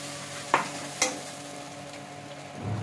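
Water hits turmeric masala frying in a pan for a prawn and potato dish, setting off a steady sizzle broken by two sharp clicks of stirring.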